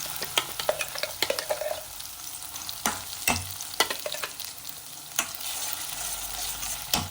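Spice masala for crab ghee roast fries in hot ghee with a bright, steady sizzle, punctuated by frequent sharp clacks and scrapes of a spoon stirring the pan up close.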